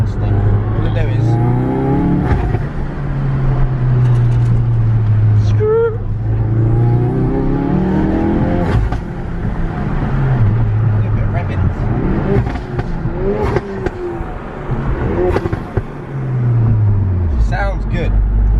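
A car fitted with a new loud aftermarket exhaust revs repeatedly on an open road, with engine notes rising and falling and several sharp pops. Someone talks throughout.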